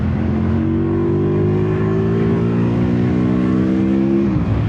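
Engine of a 2025 CFMOTO 450 CL-C motorcycle with automatic transmission, loud and steady while riding, its pitch slowly climbing and then dropping near the end, with no talk.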